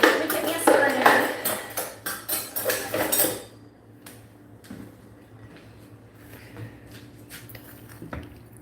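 A metal spoon clatters and scrapes against a dish of homemade mac and cheese, a loud busy burst of clinking for about three seconds, then quieter scattered taps while people talk.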